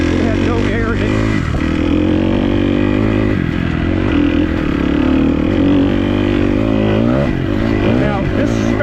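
Kawasaki KX250F dirt bike ridden on Red Green Blue trails at Manchester OHV, its engine droning loud and steady throughout with shifting pitch as the throttle rises and falls, close up under the rider.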